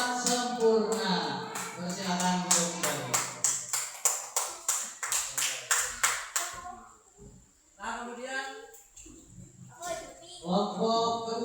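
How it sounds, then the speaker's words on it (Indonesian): A group of listeners claps for a presenting group of students, steady, fairly rhythmic applause lasting around six seconds before it fades and someone starts talking. "tepuk tangan untuk kelompok tidak sempurna"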